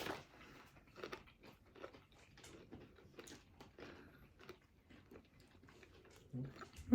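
Sweet brown butter cashews are crunched and chewed, quiet irregular bites and mouth sounds up close, with soft voices talking faintly around them.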